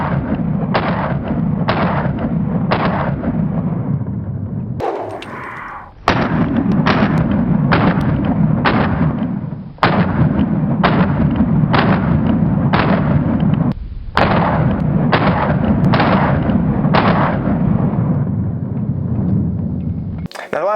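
A Hellcat Pro Plus pistol firing 90 grain Blue Line test ammunition, heard as a long series of loud, sharp gunshots in quick groups of several shots with short gaps between strings, close and echoing outdoors.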